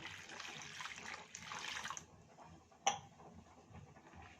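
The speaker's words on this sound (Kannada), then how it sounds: "ಅಂದರೆ 1 ಗ್ಲಾಸ್ ನೀರು ಹಾಕ್ಕೊತೀನಿ." A glass of water poured into a bowl of pani puri water, a faint splashing pour for about two seconds, then quiet with a single sharp clink.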